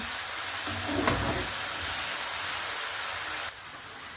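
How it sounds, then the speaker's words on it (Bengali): Masala of salt and turmeric frying and being stirred in a pan while cooking a chicken dish in tomato, giving a steady, close sizzle with a brief scrape of stirring early on. "মশলাটাকে ভালো করে কষিয়ে নেব।"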